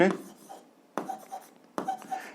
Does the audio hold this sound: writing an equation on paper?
yes